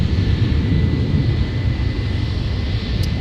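An American Airlines passenger jet at MSP airport produces a steady, fairly loud engine roar with a constant whine, continuous throughout and with no talk.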